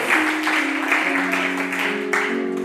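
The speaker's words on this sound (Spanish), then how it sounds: "Dale el aplauso por libertad a Cristo." A church congregation claps and cheers, a lively dense applause with some raised voices and a sustained tone underneath, continuous and fairly loud throughout.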